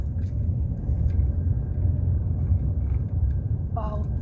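A car climbing a winding mountain road out of Maracas through tropical forest in the Northern Range of Trinidad: a continuous low engine and road rumble heard from inside the vehicle, with a brief faint voice-like sound near the end.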